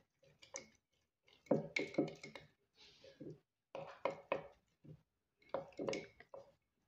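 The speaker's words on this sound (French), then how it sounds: "Et on mélange." Spoon stirring 25 g flour into 25 g spring water for a liquid sourdough starter, giving close, soft wet ticks and scrapes in short bursts with pauses between.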